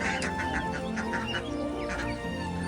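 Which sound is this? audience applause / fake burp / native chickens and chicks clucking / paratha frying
native chickens and chicks clucking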